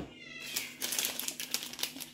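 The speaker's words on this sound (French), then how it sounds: "c'est les chats qui se disputent" Domestic cats fight indoors at home with a strained, wavering yowl followed by a run of harsh, irregular hisses and spits, fairly loud and close.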